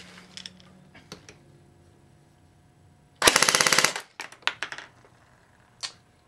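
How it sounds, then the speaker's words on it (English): A G36C airsoft rifle fires a rapid burst through a chronograph, close and loud, followed by several single shots and a few quieter clicks. "Let me wind the mag real quick."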